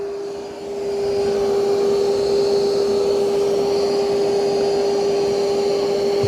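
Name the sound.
Yeedi M12 Pro robot vacuum running on highest suction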